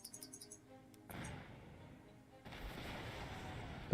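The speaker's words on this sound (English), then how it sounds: "Let's fire everything we've got at him." Battleship naval guns fire in Battle Fleet 2 during an Imperial Japanese Navy Pacific campaign: two heavy blasts a little over a second apart, each trailing into a rolling rumble, fairly faint overall.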